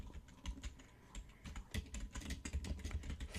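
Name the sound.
typing on a computer keyboard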